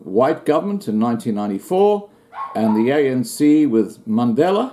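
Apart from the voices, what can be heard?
dog barking in the background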